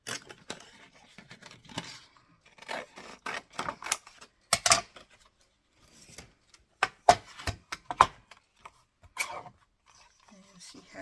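Scissors cutting paper roughly for a junk journal at a crafting table: a series of close, sharp snips and rustles in irregular bursts with quiet gaps between them.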